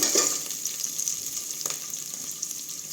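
Oil sizzles and crackles steadily in a pan as ingredients fry for pongal, a constant close hiss with faint stirring and no talk.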